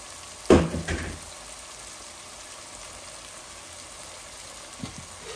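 Rohu fish pieces and heads tipped into a hot pan for a sour curry land with one sharp sizzling burst that fades quickly, leaving a faint low hiss and a small clink near the end.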